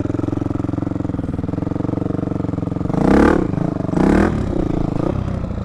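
Motorcycle engine running steadily on off-road trails at Rocky Ridge near Decatur, a close, continuous thrum with two loud revving bursts around the middle before settling back to a rough idle-like drone.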